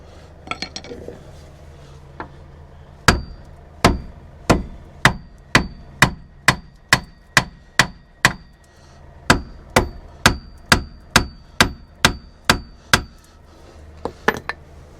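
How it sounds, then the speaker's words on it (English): A hammer strikes a steel track rod end case in a series of sharp metallic taps, about twenty evenly spaced ringing hits, loud and close, with a bright clang on each strike. "we're going to give it a sharp tap with a hammer"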